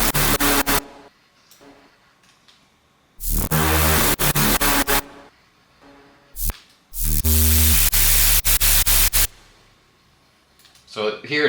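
Glitching synth effect in a techy drum and bass track, built from sine and saw waves with auto-pan movement: loud stuttering bursts of dense noisy tone chopped by abrupt silences, cutting in and out in irregular blocks.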